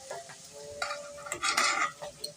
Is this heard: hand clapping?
no